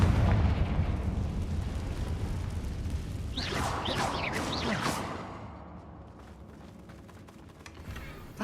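A Confringo blasting spell explodes in Hogwarts Legacy, bursting with a loud blast and crackling debris midway that tails off into quieter rumbling.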